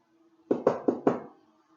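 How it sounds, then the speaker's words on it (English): Four sharp knocks on a bedroom door in quick, slightly uneven succession, close and distinct against near silence. "Jeannie knocked again."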